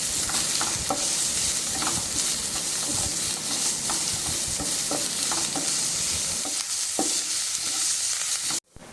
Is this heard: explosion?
no